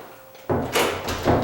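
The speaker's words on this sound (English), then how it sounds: "I'm going to go ahead and close this door." A sagging house door just repaired swings shut with a broadband thud near the listener, a soft bump followed by a louder latch-and-settle a moment later, with no talk.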